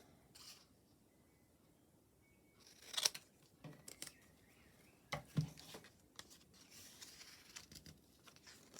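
Scissors snipping paper for a junk journal page, a few short crisp cuts and rustles heard up close against a quiet room, no talking.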